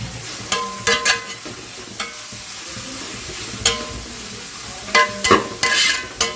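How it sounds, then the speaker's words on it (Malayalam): Beans frying in a pan for chicken biryani, stirred with a utensil that gives repeated sharp scraping strokes in bursts over a continuous close sizzle, with no talking. "ബീൻസ് ഇട്ട് നല്ലവണ്ണം ഇളക്കി ഒന്ന് പാകമാകുന്ന വരെ ഇളക്കി കൊടുക്കണം."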